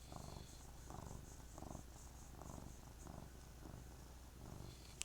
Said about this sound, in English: my cat's distracting me